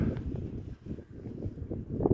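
Cold wind on a freezing day outdoors, heard as steady low gusts buffeting the microphone with a rough, rumbling roar and no voices.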